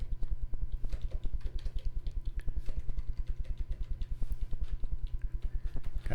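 Steady rapid clicking of keys being typed, close and continuous, with an even low thumping rhythm throughout and no voices.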